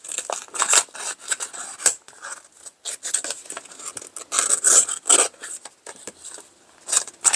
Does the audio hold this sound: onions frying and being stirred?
no